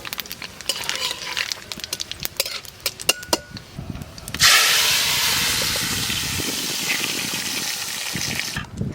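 Bay leaf, dried chilli and five-spice dropped into hot mustard oil in a village kitchen, first a few clinks and light taps, then a sudden loud hiss of sizzling that holds steady before cutting off.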